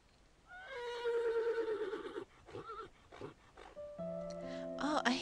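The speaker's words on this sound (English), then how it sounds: "Oh, I hear horses." A horse neighs in a long whinny in the video game Mad Father, followed by snorting and shorter calls, with electronic tones and clicks toward the end.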